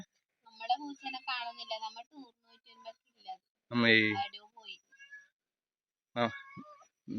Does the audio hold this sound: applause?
no